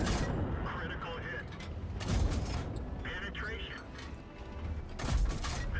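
Tank cannon fire in a tank video game, a dense stretch of heavy booms and mechanical rumble with two louder blasts, as an excited voice talks over it.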